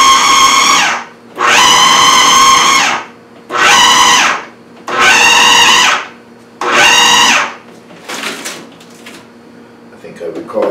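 A food processor blitzes enriched brioche dough in short pulses, five loud whirring bursts each lasting about a second with brief pauses between, followed by quieter clattering and handling noises.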